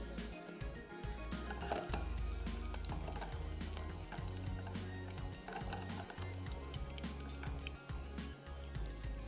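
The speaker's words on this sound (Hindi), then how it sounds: "थोड़ा सा लहसुन ब्राउन हो जाए तो इसमें डाल देंगे साबुत लाल मिर्चें और ज़ीरा। तड़का लगा के फाइनल कर देंगे।" Garlic, whole red chilies and cumin seeds frying in hot oil for a tadka, a steady close sizzle running throughout with low hum underneath and occasional soft clinks of a pan.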